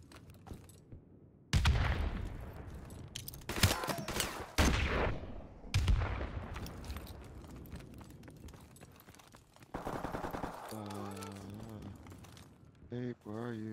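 Video game gunfire in a first-person shooter: repeated loud bursts of shots with sharp onsets and reverberant tails over several seconds, with people talking throughout.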